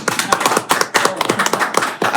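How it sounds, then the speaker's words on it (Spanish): A small audience claps in a quick, uneven rhythm of distinct hand claps to greet a newly appointed president at an electricity-sector conference, loud and close, with no talking over it. "hay que darle un aplauso"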